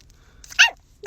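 A clingy dog gives two sharp, loud barks close by, spaced about half a second apart, with no talking.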